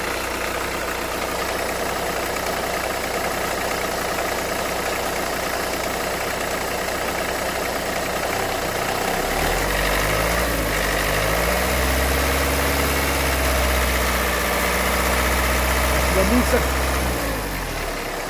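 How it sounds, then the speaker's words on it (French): Diesel engine fitted with a Delphi injection pump idling steadily, then a low rumble surges and holds as the accelerator is pressed and kept revved, close and loud throughout, with voices talking over it. "Donne un petit coup d'accélérateur, ah pardon, donne un petit coup d'accélérateur."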